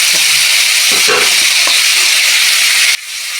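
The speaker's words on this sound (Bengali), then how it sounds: "সাদা জিরে কালো জিরে একটু ফোড়ন দিয়ে দিলাম, তেজপাতাটা দিয়ে দিলাম" White and black cumin seeds and a bay leaf hit hot oil for a Bengali rui fish curry, giving a loud, steady sizzling hiss up close that cuts off abruptly near the end.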